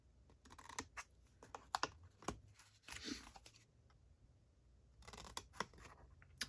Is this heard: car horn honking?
no